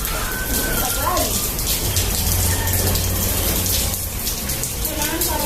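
Water rains down from a shower rigged on a tree, a loud, constant patter and hiss of falling drops close by, with faint voices beneath the spray.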